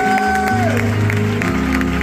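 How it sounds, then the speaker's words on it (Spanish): Applause from a church congregation during a worship service, steady clapping blended under sustained music for the whole stretch. "¡Dale un aplauso fuerte!"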